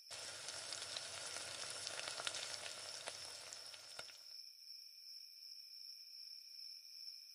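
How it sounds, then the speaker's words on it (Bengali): Cartoon-style sizzle of fish frying in a pan, a steady dense crackle for about four seconds that then cuts off, leaving a thin high electronic whine. "এই তো সব মাছ ভাজা হয়ে গেছে"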